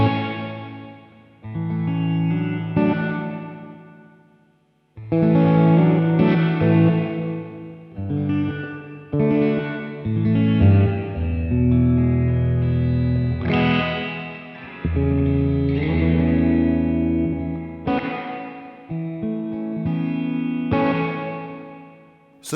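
Electric guitar through a Sonicake Twiggy Blues multi-effects pedal with the reverb turned up full plays chords and single notes with a slightly driven tone, each phrase trailing into a long wash of reverb, with no talk.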